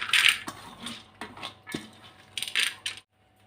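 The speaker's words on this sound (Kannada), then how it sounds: "ನಾವು ಸ್ವಲ್ಪ ನೋಡಿ ಇಷ್ಟು ಬೇಳೆನ ಹಾಕ್ಕೊಳ್ತೀನಿ. ತೊಗರಿಬೇಳೆ" Washed toor dal pours into a pot for sambar in a few short rattling bursts of dry lentils striking metal, close and fairly loud, then stopping into near silence.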